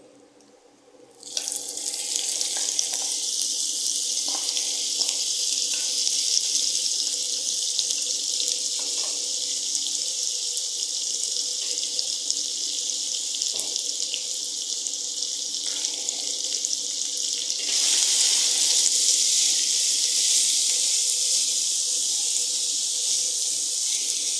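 Two finely chopped onions tipped into a hot pan for chicken masala, setting off a loud, continuous sizzle that starts abruptly after a brief quiet moment and swells slightly louder toward the end.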